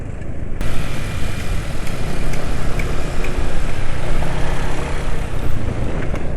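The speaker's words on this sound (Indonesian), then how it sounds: "Ya, suara mesin" A motorcycle engine runs steadily after an oil change to Upsol Impero 4T, a loud, continuous close-up drone with no pauses.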